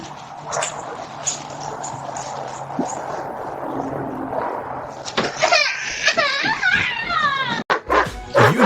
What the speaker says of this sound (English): Was it the dog?